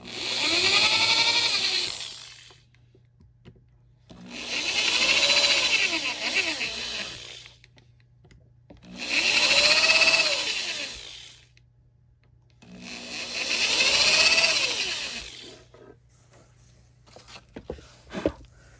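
A power drill pre-drills pilot holes into a wooden cabinet door for hinge screws in four separate runs of a few seconds each, its motor whining up and down, with quiet pauses between.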